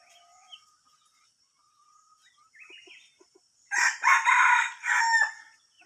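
A red junglefowl rooster that was released and stays near the house among village chickens crows once, loud and fairly close, after a quiet stretch of soft bird calls.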